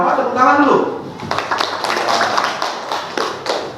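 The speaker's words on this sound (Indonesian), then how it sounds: "Tepuk tangan dulu." Children in a classroom clap together after a teacher speaks briefly, a burst of quick, irregular claps filling the rest of the moment.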